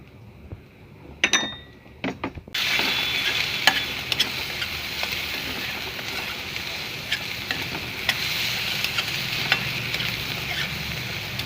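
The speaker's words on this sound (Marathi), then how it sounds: "आता आपला कांदा परतून झालाय" Onion sautés with salt in a pan for kandyacha thecha. Quiet stirring clicks come first, then a loud, continuous close sizzle sets in, broken by sharp spatula taps against the pan.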